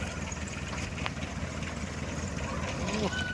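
An old first-generation engine running on a water-well drilling job, a steady low idling rumble throughout with a faint squeak near the end.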